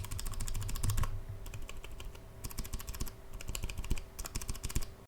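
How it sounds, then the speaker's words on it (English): Clicky blue mechanical keyboard switches pressed in quick bursts of sharp clicks close to the microphone, several runs of rapid presses separated by short gaps, with no talking. "if I put this up to my microphone right here, that's a clicky switch"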